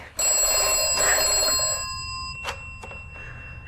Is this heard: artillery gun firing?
no